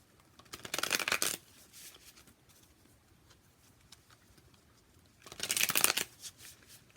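A retro zombie tarot deck being shuffled, two distinct close riffling bursts about four seconds apart, with quiet room tone between them and no talk.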